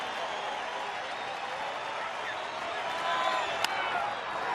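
Baseball stadium crowd at a Rockies home game in Colorado, top of the eighth with a tight 1-0 lead, a steady broad roar of cheering that swells slightly near the end, with a commentator talking over it.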